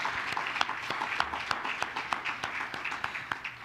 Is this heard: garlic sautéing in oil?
no